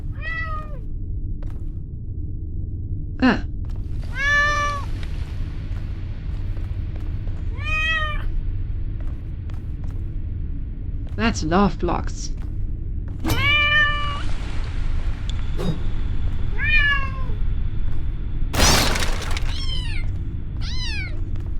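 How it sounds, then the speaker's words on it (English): Cats meow repeatedly inside a puzzle video game, a string of clear, close, high mewing calls spaced a few seconds apart over a steady low background hum, with a brief spoken remark partway through. "I hear cats."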